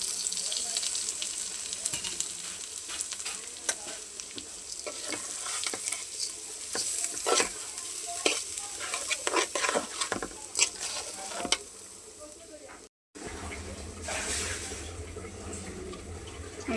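Oil poured over browned fried onions and spices in a pan, with continuous sizzling and stirring scrapes, water and tap sounds in the background, a brief dropout near the end, and no talk.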